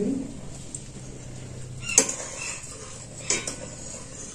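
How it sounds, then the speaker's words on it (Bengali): Fried flour being stirred little by little into milk in a pot, with a spoon clinking and scraping against the pot in a few soft, close taps amid quiet kitchen background. "আমি যে ময়দাটা ভেজে রেখেছিলাম সেইটা অল্প অল্প দেবো আর নাড়তে থাকবো"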